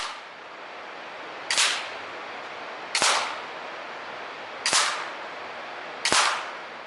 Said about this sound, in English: This is Shooter 2 firing 10 rounds at the Ace of Hearts.